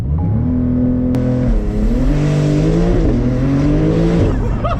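A Porsche 992 Turbo launching from 0 to 60: a loud, rising engine roar that climbs through stepped gear changes, with a brief tire chirp near the start, heard up close and alone.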